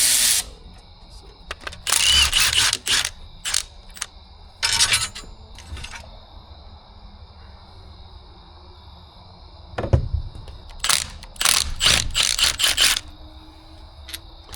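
A ratchet or power tool working intake bolts loose on a 1970s big block jet boat engine, bursts of buzzing and clicking in irregular spurts with quiet gaps, close by in a workshop.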